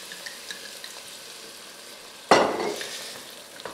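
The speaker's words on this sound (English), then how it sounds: "now I'm going to add about a third of a cup of the red wine" Red wine poured into a hot pot of browned carrots and onions, bursting into a sudden loud sizzle that then fades into a softer bubbling hiss.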